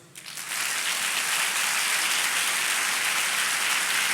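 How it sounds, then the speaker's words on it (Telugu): A church congregation claps together at a worship service, a dense, loud, steady wash of applause that builds over the first half second and then holds evenly to the end. "ఈరోజు చూస్తాను మీరు ఎంత బాగా చప్పట్లు కొడతారు"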